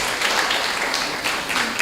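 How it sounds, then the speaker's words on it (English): Audience clapping for the Jewels Football Club at its ten-year anniversary event, a moderate, continuous patter of many hands that stays fairly even throughout. "So give yourselves a round of applause"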